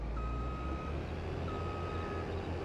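A truck in Farming Simulator gives two long steady reversing beeps over a loud low engine rumble, close and without talk.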